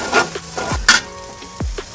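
Ginger and garlic paste with spices fries in hot oil for a spicy beef liver curry. Bright bursts of sizzling come with a few sharp clanks of a utensil against the pan, close and fairly loud.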